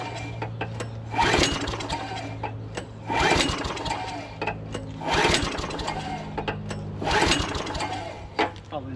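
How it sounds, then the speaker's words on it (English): A lawn mower engine is cranked repeatedly after fuel is sprayed into its intake, four rough bursts of pull-start cranking that catch briefly without running, with a low steady hum beneath. "So we're going to blow fuel right into the intake manifold and see if it starts up."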